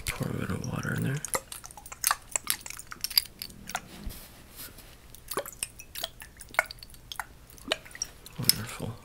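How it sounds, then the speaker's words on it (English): Small amounts of water drip and splash in quiet, close ASMR-style tapping bursts, scattered irregular drops after a brief opening pour, with faint low talk in the background. "Pour a bit of water in there."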